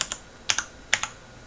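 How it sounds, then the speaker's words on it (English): Cherry Brown tactile mechanical keyboard switches on a switch-tester board, with no click, pressed in two quick pairs of crisp, close keystrokes, each press followed by a softer return tap, with quiet between. "Cherry brown has no click, but it has a little bump when pressing."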